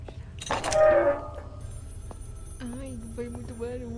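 An old telephone rings in the horror game Maid of Sker, with a loud burst of ringing followed by repeated melodic tones over a low game ambience.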